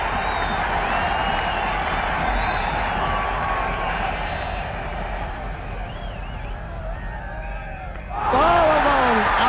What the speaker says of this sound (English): Crowd are going absolutely mad, the Indian camp over on the far side.